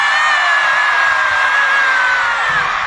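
A large crowd at a pop concert in Chengdu screams continuously and loudly, a dense sustained roar with a shrill piercing edge.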